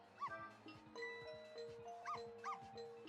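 A cartoonish dog in the video game Ghost Trick barks repeatedly in short, rhythmic yips and bow-wows over a bouncy game soundtrack, fairly soft.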